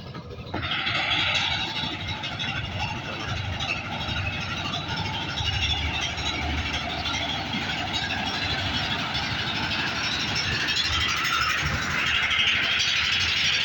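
A motor trawler's engine, on a boat used for loading and unloading sand, runs with a steady rattling drone throughout, loud and close with no break.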